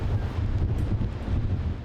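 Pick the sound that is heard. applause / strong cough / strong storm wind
strong storm wind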